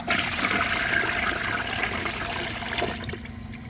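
A 1992 Peerless Hancock toilet flushing while clogged on a washcloth, a steady rushing, gurgling surge of water close by that fades slightly toward the end, with no talking.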